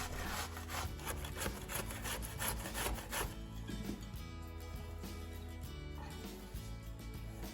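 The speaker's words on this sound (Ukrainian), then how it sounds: "Ми беремо цукіні та тремо його на тертушці." Zucchini rubbed against a kitchen grater gives quiet, rhythmic rasping strokes, steady and repeated over several seconds with no talking.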